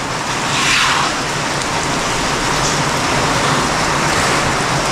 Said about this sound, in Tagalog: Biglang buhos yung ulan, akala ko okay na kanina. Talagang habagat ano.